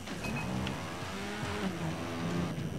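A motorcycle engine drones and revs in the video game Trials Evolution, a moderate, continuous whine that rises and falls through gear-like pitch sweeps, with no talking over it.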